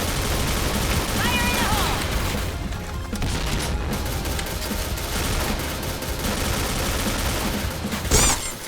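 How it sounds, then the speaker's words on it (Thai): Heavy, sustained gunfire and explosions fill a shooting video game firefight set in the 2023 era, with a dense, continuous barrage and a louder burst near the end, while a voice talks over it. "อะไรยิงกันโหดขนาดนี้ ยิงกันโหดขนาดนี้แล้วผมจะเล่นยังไงล่ะครับ"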